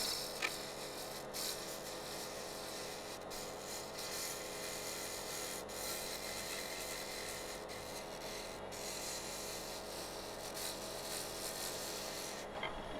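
A scraper burr lightly cleans up the edge of a wet-wood bowl on a lathe, giving a steady, continuous rasping scrape with no talk.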